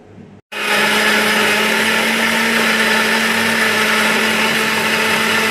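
A mixer grinder grinds oil-fried onions into a paste for green chicken curry. After a brief lower start, the motor kicks into a loud, steady, high-pitched whir that runs without a break and with no voices.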